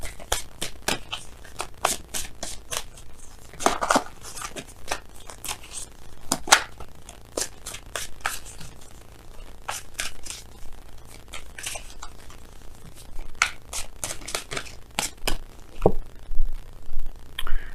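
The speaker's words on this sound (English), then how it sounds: "We're gonna go ahead and pull you guys some some oracle cards from Messenger Oracle." Oracle cards from the Messenger Oracle deck are handled and shuffled in repeated quick riffles and flicks, crisp papery bursts at an uneven pace, close and fairly quiet.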